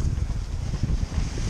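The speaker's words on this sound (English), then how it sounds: "Wind." Wind blowing on a spring section of the Appalachian Trail, a continuous low rumbling buffet against the microphone, loud and unbroken with no talking.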